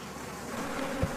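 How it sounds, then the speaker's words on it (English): Killer bees, an aggressive swarm in pursuit, buzz in a dense, steady drone that fills the whole moment at close range, with a slight swell near the end and no voices. "Killer bees have a unique and chilling characteristic."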